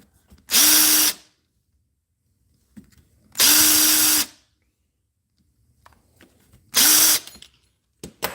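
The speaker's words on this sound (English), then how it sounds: "you just hold this pipe cutter around, tighten it a little bit, tighten a little bit more" Pipe cutter clamped around a pipe spun by a power drill, three loud whirring bursts of about half a second to a second and a half each, separated by quiet pauses with faint handling clicks, close up.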